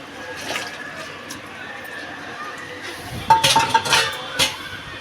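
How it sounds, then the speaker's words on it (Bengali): Cooked potato and drumstick curry with mustard paste is poured from a pot into a bowl. Metal clinks and scrapes cluster in the second half over a low background, and someone speaks. "তরকারিটা আমি ঢেলে নেবো গামলাটায়"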